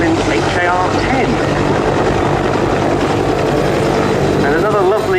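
Westland Whirlwind HAR-10 helicopter with a Bristol Siddeley Gnome turboshaft engine at an air show, giving a steady, loud turbine whine and rotor drone throughout while a commentator talks over it.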